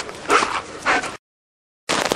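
Wolf, a neighbour's dog, lets out short yipping barks and whines close by, two clusters of sound separated by a brief silence, with no talk.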